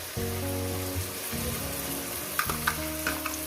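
Spice paste dropped into onions fried for four minutes for a mutton and potato curry, a loud, close, steady sizzle with a low tonal hum underneath and a few sharp spatters near the end.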